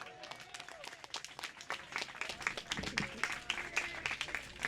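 Scattered applause from an outdoor crowd at a park ribbon-cutting ceremony, a soft, fairly distant patter of many hands that swells slightly toward the end, with faint voices underneath.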